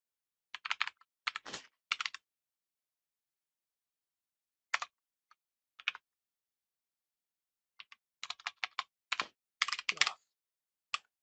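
Code is typed on a computer keyboard in short clustered bursts of crisp, close key clicks separated by silent pauses.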